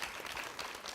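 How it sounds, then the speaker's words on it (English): A small tai chi class in Honolulu, Hawaii claps for a fellow participant, a steady, close burst of hand applause filling the short moment without speech. "another big clap for Cal"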